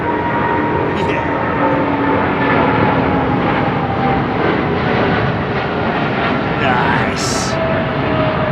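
A jet airliner takes off at London Heathrow Airport, its engines a loud, continuous, rumbling roar that fills the whole stretch, while people talk briefly in the background.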